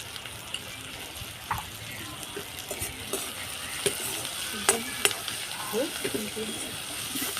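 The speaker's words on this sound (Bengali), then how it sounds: "পেঁয়াজটা হালকা ভাজা হয়ে গেছে" Onions with turmeric and salt frying and being stirred in a pan, a steady close sizzle with scattered clicks and scrapes of the spoon running through the whole stretch, no talk over it.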